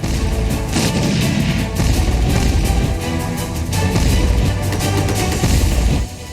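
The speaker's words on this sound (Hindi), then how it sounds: "सिलसिलेवार बम धमाके" Repeated bomb blasts and heavy booms amid urban fighting between the Iraqi army and ISIS, a loud, sustained barrage of rumbling impacts and cracks with gunfire mixed in, easing off at the very end.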